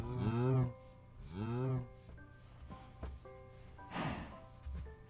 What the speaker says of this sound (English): So we walk through the mushroom biome with all of the cows.